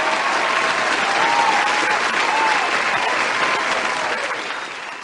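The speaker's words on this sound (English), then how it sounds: "let's join in a round of applause" A room full of people breaks into a round of applause, dense steady clapping for about five seconds that tapers slightly at the end.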